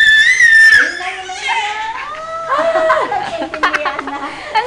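Two babies screech and squeal in sharp high bursts, one loud shriek at first and then overlapping wails and yelps up close, mixed with a little babbling.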